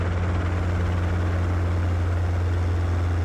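Loud, continuous rotor noise from a helicopter descending steeply, a deep steady throbbing roar close by with no voices.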